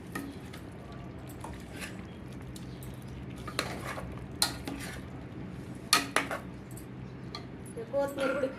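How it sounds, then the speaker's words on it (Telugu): Country chicken curry ingredients are stirred together in a pan, with scraping and irregular metallic clinks of a spoon against the pot, under a faint voice in the background. "ఇవన్నీ మంచిగా మిక్సింగ్ చేసి మంచిగా కలుపుకోవాలి."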